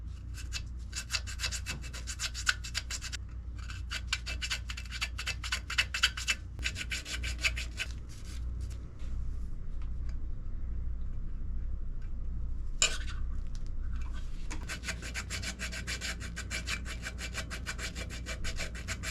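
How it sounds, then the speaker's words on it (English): A fine file rasps against a budget mountain bike part, widening a cable hole during a 3x to 1x drivetrain conversion. It starts as quick, rhythmic scraping strokes, then turns to a steadier, denser grating sound, up close with no speech. "I'd opted to just go for a very fine file and just do it just enough to fit the cable through."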